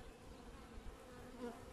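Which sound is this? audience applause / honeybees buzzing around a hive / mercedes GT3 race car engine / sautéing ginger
honeybees buzzing around a hive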